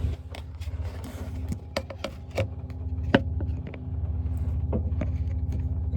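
Boat steering wheel turned by hand on a vessel fitted with a Raymarine autopilot: scattered sharp clicks and knocks of the wheel and steering gear over a steady low hum, close by, with no talking.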